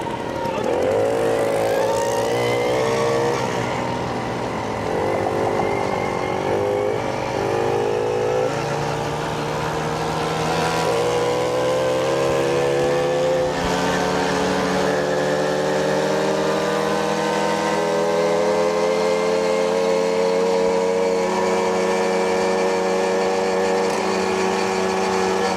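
Small Swiss Töffli moped engine droning steadily while riding down through Bern's old town, a buzzing two-stroke note rising and falling in pitch with throttle changes, loud and continuous throughout.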